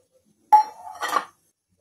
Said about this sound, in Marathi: कुकरमध्ये पाणी ठेवलं आहे, गरम पाणी। त्यात आपल्याला हे गव्हाची टाकून द्यायचे आहे।